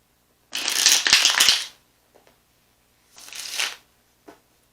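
A deck of tarot cards is shuffled up close: a loud riffling burst lasting about a second, then a softer second shuffle, with brief faint card taps in between and at the end.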